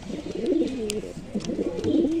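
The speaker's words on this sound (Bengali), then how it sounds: "এই হলো পেয়ার, গিরিবাজ পেয়ার" Close giribaz pigeons cooing in low, throaty warbles, repeating in overlapping rolls with a faint flutter in the background.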